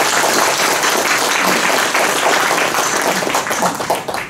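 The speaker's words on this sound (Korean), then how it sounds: "우리 이분들을 위해서 한번 박수도 부탁드립니다" Dense, loud audience applause at an alumni association's 50th anniversary event, continuous clapping throughout that thins slightly toward the end.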